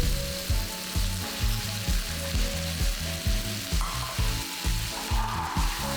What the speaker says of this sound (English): Now we're gonna really stir this around for about 3 minutes in medium-high heat